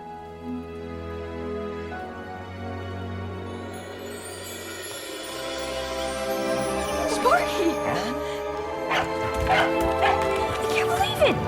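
A dog barks, yips and whimpers close by amid a swelling musical score, the cries growing busier and more insistent toward the end; a voice may be mixed faintly under the music.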